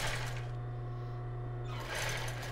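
A sewing machine backstitches butilon elastic onto thong panties, its motor whirring steadily and close throughout, easing slightly for a moment before running full again.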